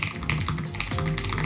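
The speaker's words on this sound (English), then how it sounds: "this is what me typing on my keyboard normally sounds like" Someone types on a computer keyboard, keys clacking in a quick, uneven run of close, crisp taps with no talking.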